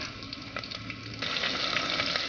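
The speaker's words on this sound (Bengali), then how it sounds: "তেল দিয়েছি, রসুন কুচি দিয়েছি।" Chopped garlic frying in hot oil for a dal tempering: a steady, close sizzle with soft crackling pops, growing slightly brighter partway through, with no voices.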